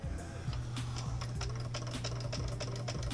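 A 1913 Singer sewing machine motor runs freshly oiled, giving a steady low hum with a fast rhythmic mechanical clatter from the moving parts, close and continuous throughout.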